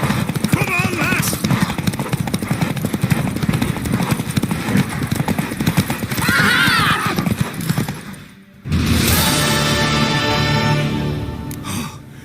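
Hoofbeats of a galloping horse in The Witcher 3 video game, steady clip-clop rhythm under game music and effects, with a horse neigh and voices talking over it during a race.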